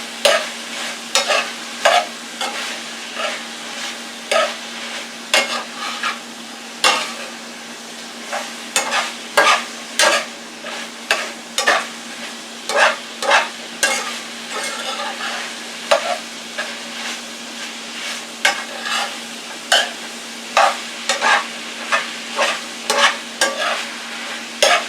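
Cooked Italian sausage gets stirred into a simmering meat sauce, with repeated spoon scrapes and knocks against the pot in an uneven rhythm over a low steady hum, close by and with no talk.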